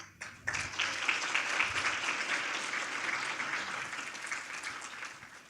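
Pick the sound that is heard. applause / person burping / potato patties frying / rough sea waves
applause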